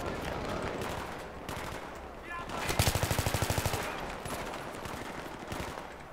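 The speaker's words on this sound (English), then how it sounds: "sniping with a machine gun" Battlefield 3 machine gun firing a rapid burst of about a dozen even, punchy shots, with scattered single gunshots around it amid game ambience.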